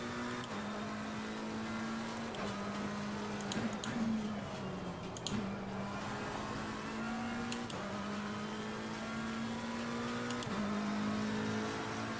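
A race car engine in Assetto Corsa Competizione at Brands Hatch drones steadily at moderate volume, its pitch rising and dropping in repeated cycles as the car accelerates and shifts through gears, with brief clicks along the way.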